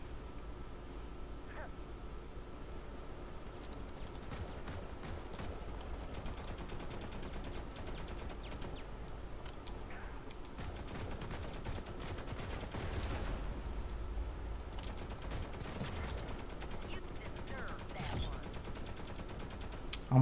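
Dual pistol gunfire in the shooter game Modern Combat Versus, fired at close range. Rapid, sharp shots pepper a dense, steady wash of game noise throughout, with no clear voices.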